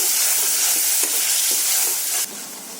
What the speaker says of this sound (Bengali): জল দিয়ে মশলাটাকে আমি আবারও কষে নেব